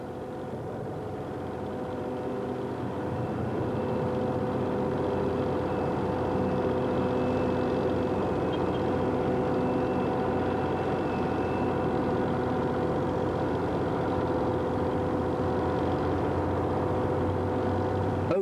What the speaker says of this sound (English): coal is removed by a coaling shovel mounted on a hydraulic excavator